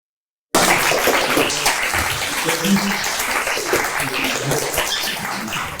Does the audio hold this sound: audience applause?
yes